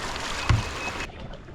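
A canoe drifting down the Cahaba River in full, high water past scattered rocks, with a steady wash of moving water and one brief thump against the hull partway through, then quieter flow.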